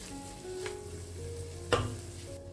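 Macaroni masala bubbles in a pan with a soft, steady sizzle, quiet and close, broken by one brief clatter of a utensil.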